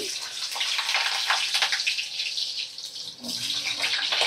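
Potato pieces hitting hot oil flavoured with whole cumin seeds, giving a steady, close hissing sizzle with crackly bursts that dips briefly near the end before resuming, with no talking.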